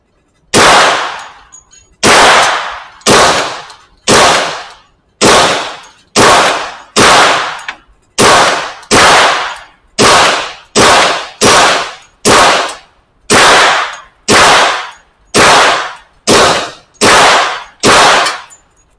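A firearm being test-fired cracks out about twenty loud, sharp gunshots in an uneven steady series, each with a brief ringing tail, spaced roughly a second apart from start to finish.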